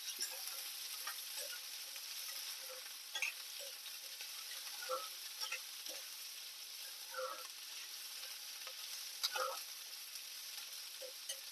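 Onion and tamarind frying together in a pan for a chutney, a soft, steady sizzle with scattered small pops and crackles at moderate distance.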